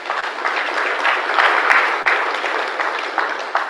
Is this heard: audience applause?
yes